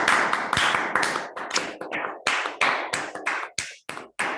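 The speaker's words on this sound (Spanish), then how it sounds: "creo que esto merece un aplauso" Applause from a small online audience at the end of a mathematics lecture on an epidemic model, heard as a few separate hands clapping in uneven bursts with brief gaps, moderately loud and with no talking.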